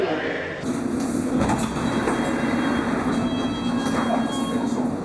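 A London Underground train sits at a station platform, its rumbling carriage noise and a steady high whine filling the space, with a voice talking over it.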